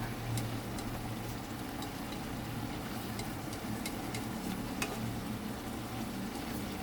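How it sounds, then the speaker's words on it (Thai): Pork and ginger stir-frying in a pan, a steady close sizzle and crackle with faint occasional clinks of a utensil, continuing evenly throughout without talk. "ผัดง่ายค่ะ หมูผัดขิง"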